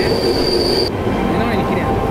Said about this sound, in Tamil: ஸோ நம்ம ட்ரெயின் பார்த்தீங்கன்னா இப்போ மதுரா ஜங்ஷனை ஸ்கிப் பண்ணுதுங்க